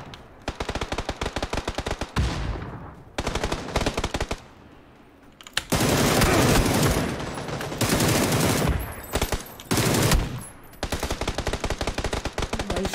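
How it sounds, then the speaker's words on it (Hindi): Gunfire in the PUBG video game, with long bursts of rapid automatic shots broken by short pauses, loud and close throughout. "भाई शॉटगन भी मार रहे हैं"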